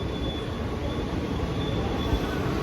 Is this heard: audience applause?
no